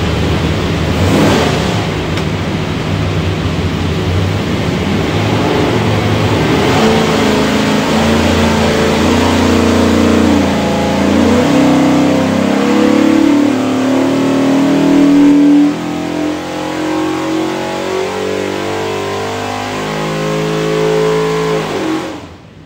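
Ford 347 stroker small block V8 on a dyno, loud and close as it revs up under load, climbing steadily in pitch through a long pull before dropping off, with no talk.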